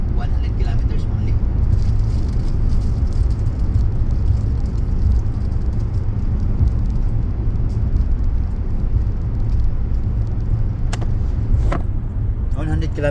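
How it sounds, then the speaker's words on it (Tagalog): A full electric 2023 cargo van with a high roof and extended body drives along, giving a steady low road rumble and tire whir with no engine note, continuous and close throughout, with a faint click near the end. "full electric cargo van, high roof, extended body"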